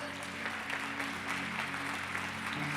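A church congregation applauds loudly during a sermon, a steady wash of clapping from many hands over a sustained low musical hum, continuing without pause.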